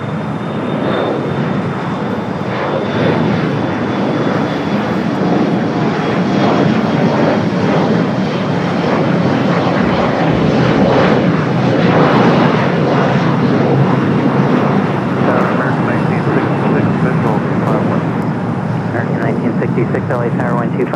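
Airliners at LAX, Los Angeles International Airport, roar steadily in a loud, continuous jet-engine wash throughout, with wind buffeting the microphone and a voice talking over the engine noise.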